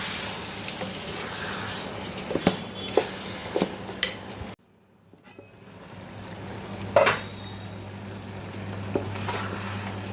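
Green stalk curry with prawns stirred in a hot pan, a close sizzle broken by scraping and clinks of a spoon against the pan, a brief pause, then sizzling and stirring again, no voices.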